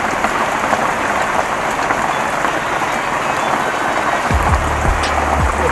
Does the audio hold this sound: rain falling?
yes